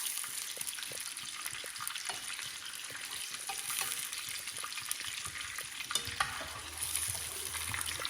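Meatballs sizzle in hot oil as they are lifted out of the pan. The frying hiss is loud and continuous and close by, with clinks and stirring scrapes and no voices.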